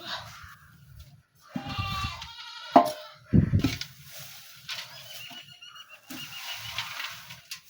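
Young goat kids bleating nearby, a few wavering cries in short bursts, with rustling and handling noises between them and a faint voice in the background.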